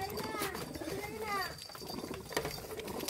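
Pigeons of the Jalali breed coo close by in their enclosure, soft low repeated coos with some wing and movement noise around them.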